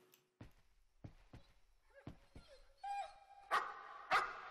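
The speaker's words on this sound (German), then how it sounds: "Ein Hund?" A dog in the horror game Layers of Fear barks repeatedly in sharp, separate bursts, the last few louder and closer, set against near silence.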